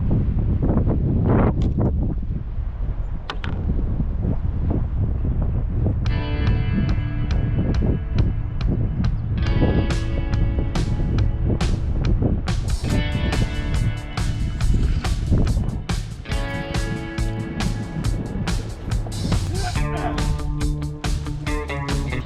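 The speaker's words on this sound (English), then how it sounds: "I don't know if you can hear, but that wind is kicking up." Strong wind buffets the microphone outdoors at a campsite, a loud continuous roar and rumble with gusting rustle that keeps up for the whole stretch, no voices heard.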